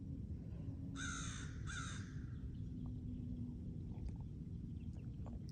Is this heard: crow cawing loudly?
yes